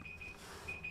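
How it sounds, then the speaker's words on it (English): A faint electronic alarm chirps two short pairs of high, steady beeps, one near the start and one near the end, over a quiet room. "Oh, that's my alarm."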